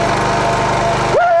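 A small gasoline engine on a log splitter sputters and then catches near the end, rising into a steady loud whine after a moment of rough, chugging cranking.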